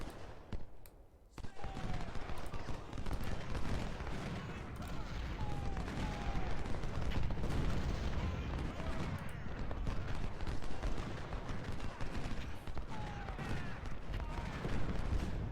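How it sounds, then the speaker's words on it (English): Artillery fire in Ultimate General: Civil War at Malvern Hill, a dense continuous rumble of distant cannon and volleys with scattered bursts. "So his artillery is firing on my cavalry."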